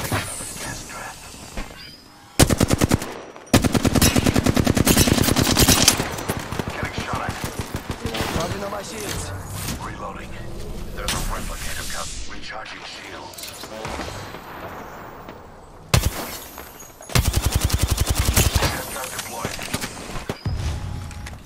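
Automatic gunfire from an Apex Legends match, dense bursts of rapid shots running most of the way through, loud and close, with in-game voice callouts and effects mixed in.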